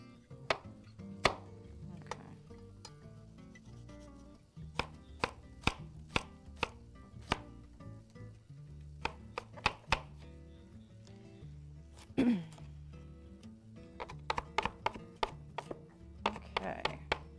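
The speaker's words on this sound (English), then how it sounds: "you want to fine chop on these" A knife finely chops shallots on a cutting board, rapid close taps in uneven bursts with short pauses between runs, crisp and distinct with no talk.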